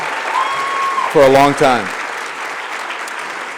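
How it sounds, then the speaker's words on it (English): Audience applause at an HRC event introducing an Emmy-winning CNN anchor, a steady broadband clapping wash throughout while someone speaks briefly over it in the middle. "So can we please give him a round of applause?"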